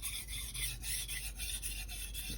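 Dull knife drawn across a Naniwa 1000/3000 grit combo whetstone, close rhythmic rasping strokes repeating about every quarter second, steady and quiet with no talk.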